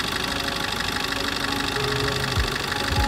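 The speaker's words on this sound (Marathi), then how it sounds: "फक्त आणि फक्त इंजिन साऊंड आहे का मित्रांनो" A 2019 Maruti Ertiga diesel car idles with a steady engine drone and faint knocking, heard close and continuous with no talk.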